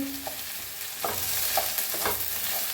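Okra is stirred with spice masala in a pan, scraping spoon strokes arriving in a few separate bursts over a low, steady sizzle.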